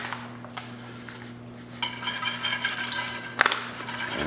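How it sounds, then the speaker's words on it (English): A spoon clinks and scrapes against a metal pot as brown gravy mix is stirred in with pork loin drippings and onions, a few sharp knocks followed by busy rattling stirring, close and fairly loud. "So now, we're going to take a packet of brown gravy mix and stir it in"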